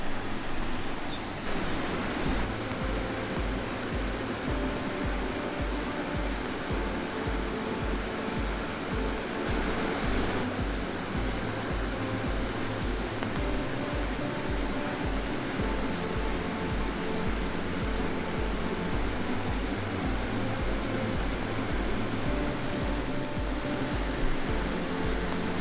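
Waterfall beside a koi pond at a Japanese museum, a steady broad rushing splash of falling water that stays even and fairly loud throughout, with no talking.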